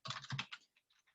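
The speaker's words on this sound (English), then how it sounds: "Sorry about the typing." Computer keyboard typing during an electrical training session on DC circuits and multimeters: a quick burst of several clustered keystrokes, close and fairly quiet, fading to a few sparse taps with no talking.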